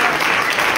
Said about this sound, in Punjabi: ਤਾਲੀਆਂ ਵਜਾ ਕੇ ਆਖੋ